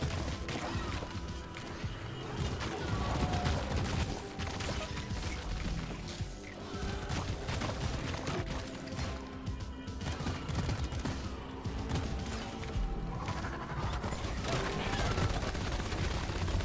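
Gunfire in the co-op shooter Deep Rock Galactic, rapid sustained bursts aimed at a Praetorian's weak point, dense and continuous with crashes and impacts mixed in, game effects layered over the shooting.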